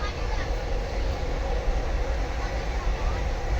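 Inside a moving passenger train on a trip to a village, a constant loud low rumble and broadband rattle of the carriage run steadily throughout, with no clear breaks.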